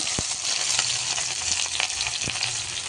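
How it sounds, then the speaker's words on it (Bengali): Chopped onions fry in hot oil with cumin seeds, a dense continuous sizzle up close, with a few soft knocks from stirring. "পেঁয়াজটা এখন একটু নাড়াচাড়া করে তারপরে একটু ভেজে নেব"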